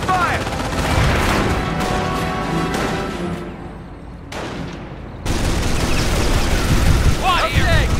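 Gunfire rattles through a Company of Heroes Normandy invasion battle, with bursts of machine-gun fire and booming blasts, loud and close, briefly dropping away before resuming with a shrill whistling streak.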